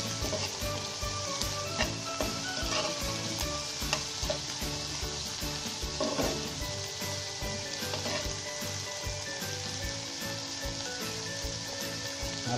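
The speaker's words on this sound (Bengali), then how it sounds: "আমরা চিংড়ি মাছগুলো ও পেঁয়াজের সাথে ভেজে নেব।" Shelled shrimp frying with onions in a pan: a dense, steady oil sizzle with crackles and occasional stirring scrapes, heard close up and continuously with no voices.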